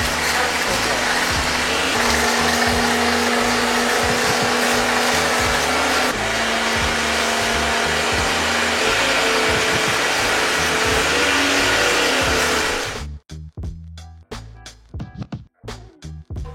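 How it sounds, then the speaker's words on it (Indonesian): A foam lance pressure washer sprays onto a 1996 Yamaha RX Special motorcycle during detailing, a loud continuous hissing roar for about thirteen seconds that then cuts off, leaving scattered clicks and knocks. "Colok, puter. Semprot deh. Langsung ya. Kita semprot motor."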